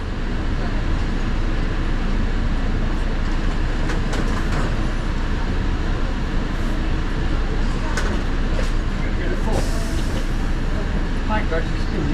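AirTrain JFK running from Howard Beach toward the airline terminals, a steady loud rumble and rail clatter heard from inside the car, with occasional squeals and people talking faintly beneath.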